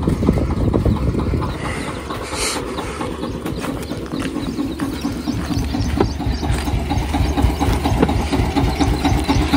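A tractor engine runs steadily up close on a farm during manure spreading, a loud continuous rumble with a rhythmic low chugging pulse and some hiss throughout, with no talking.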